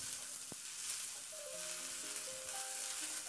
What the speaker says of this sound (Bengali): সবজিটাকে ভেজে নেব।